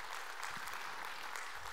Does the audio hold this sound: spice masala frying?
no